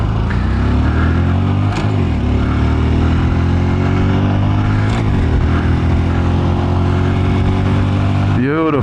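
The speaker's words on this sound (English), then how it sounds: "it's not really a joke of a bike, but it is fun, and it has more than you think for only having 10 horsepower" Small Honda motorcycle of roughly 9 horsepower being ridden: a loud, close engine drone rising in pitch through gears, with brief dips at shifts and wind buffeting, while a rider talks over it.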